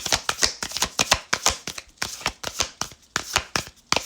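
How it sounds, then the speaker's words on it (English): Stiff new oracle cards being shuffled by hand, a rapid run of crisp papery slaps and riffles in uneven bursts, close and fairly loud, with brief pauses between clusters and no talk. "They don't shuffle well yet."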